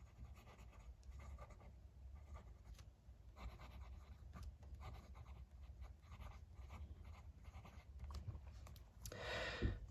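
A Benu 'Beam Me Up' painted edition fountain pen with a number 6 steel Schmidt broad nib, writing a wet line on paper, gives off continuous soft scratching strokes close by, with a brighter burst of scratching near the end.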